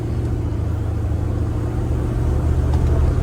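A 1974 Pontiac Grand Prix engine hums in a low, steady drone while driving, building slightly in the last second under constant road rumble, with no one talking.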